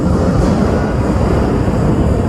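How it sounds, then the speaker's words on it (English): A train rumbles by directly overhead as someone stands beneath the elevated track, a loud, dense, continuous low roar lasting throughout without speech. "here comes the train."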